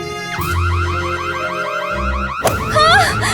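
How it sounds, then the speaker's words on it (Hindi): An electronic alarm wails in rapid repeating up-and-down warbles, loud and close, then switches to a different pulsing electronic tone partway through. "अरे चुप हो जाओ, फायर अलार्म बंद करो"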